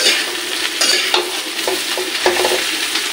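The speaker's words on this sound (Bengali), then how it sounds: "আমার এবার মনে হচ্ছে ভাজাটা হয়ে গেছে" Food fries in a pan of hot fat such as ghee, butter or oil, with a steady sizzle broken by several sharp scrapes and clinks of a spoon stirring against the pan.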